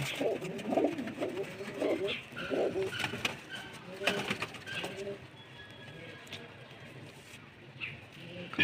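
Ondhra breed pigeons coo close by in low, soft, throaty bursts that repeat through the first half, fading toward the end, with light rustling around them.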